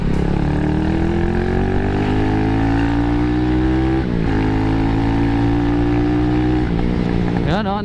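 Kawasaki Z200 motorcycle exhaust fitted with a 51mm modified-stock muffler, a smooth, steady drone that slowly rises in pitch as the engine revs up, dips briefly, then climbs again, loud and continuous throughout.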